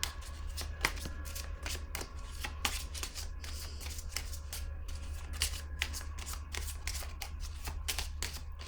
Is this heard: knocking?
no